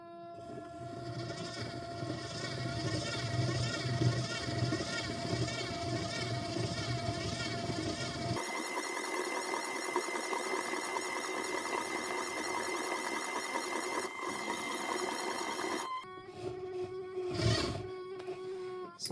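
A MasBros yarn winder running at slow speed, producing a steady mechanical hum and whir with a tonal motor whine that shifts pitch partway through, close and continuous.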